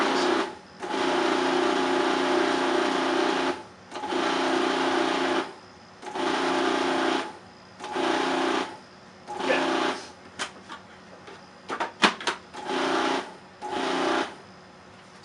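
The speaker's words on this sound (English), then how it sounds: "So the second half of the butter is in the machine now. I'm just going to pulse that up until it's kind of coarse crumbs." Food processor pulsing butter into coarse crumbs for pie crust: about eight loud, close bursts of motor whirr separated by short pauses, turning into quicker, choppier pulses near the end.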